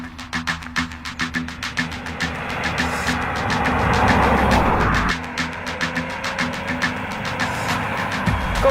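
Interior of a Citroën C-Elysée on the road, engine and road noise swelling as the car speeds up, then dropping to a steady drone with rhythmic thumps, heard from inside the cabin.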